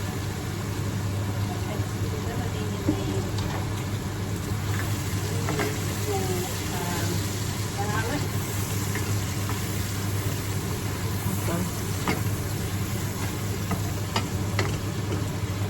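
Onions frying in melted butter in a pan while being stirred, a steady close sizzle with scattered spoon clicks and scrapes, under a constant low hum and faint, intermittent voices.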